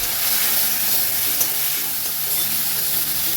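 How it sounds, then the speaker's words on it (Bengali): Prawns frying in hot oil with salt and turmeric give a loud, steady close-up sizzle and hiss, with faint scraping as the pan is stirred. "চিংড়ি মাছটাও তেলে দিয়ে দিচ্ছি। একটু নুন আর একটু হলুদ দিয়ে এটাকে নেড়ে নেবো তেলে।"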